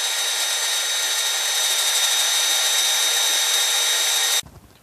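A power drill bores a 5/8 inch hole straight through, part of a death wobble fix on a Dodge Ram truck, as a loud, steady, high whine with grinding that stops abruptly near the end.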